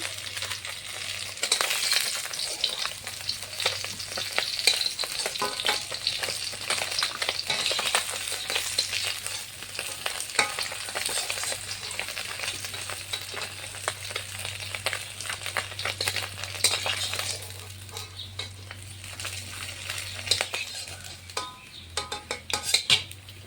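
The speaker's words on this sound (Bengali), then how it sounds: "লাল লাল করে মাছটা ভেজে নিয়েছি, বাকি মাছগুলো ভেজে নেব।" Fish frying in oil and being turned with a utensil, giving a continuous close sizzle with frequent clinks and scrapes against the pan.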